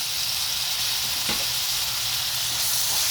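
Onions and tomatoes for masoor curry fry in a pan, giving a steady, close sizzle with faint stirring scrapes and no talking.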